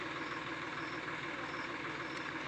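A tractor engine runs at a steady low idle in the distance, a faint continuous rumble with no voices over it.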